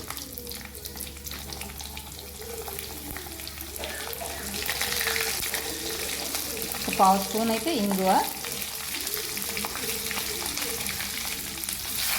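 Mustard seeds, cumin, dried red chillies and peeled garlic fry in hot oil for a dal tempering, giving a soft, steady sizzle with a few brief spattering bursts beneath a voice talking.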